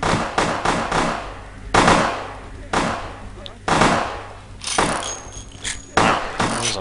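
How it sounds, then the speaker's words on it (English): Repeated gunshots from a Vampire The Masquerade Bloodlines gameplay firefight: loud, sharp bursts arriving irregularly about every second, some in quick clusters, each with a short decaying tail. "Let's see if my skill at shooting is good enough to hit this guy down here."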